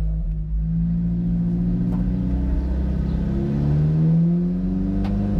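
An engine revs loud and close as a car on a test track accelerates, its pitch sweeping up through the gears in a steady, rising drone with brief shift dips, and no voices over it.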